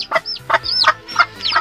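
A bantam hen clucks close by in a short, steady series of calls, with high, thin peeping from her chicks mixed in between the clucks.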